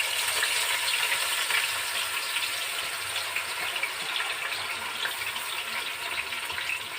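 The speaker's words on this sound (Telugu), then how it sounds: "ఈలోపు ఆయిల్ కాగింది కదా, ఆయిల్లోనూ మనం క్రష్ చేసుకున్న ఉల్లిపాయలు దీన్ని వేసేద్దాం" Crushed onions fry in hot oil, making a steady, even sizzle and hiss that stays fairly quiet and continuous throughout, with no voices.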